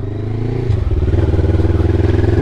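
A 2005 Honda CB500 Limited Edition motorcycle being ridden, its engine note loud and close, steady with a slight rise in revs and a pulsing throb.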